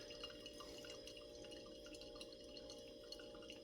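Water drips steadily through a Hario V60 paper filter during a slow pour-over coffee brew, a faint continuous trickle with small scattered drip ticks and no talk.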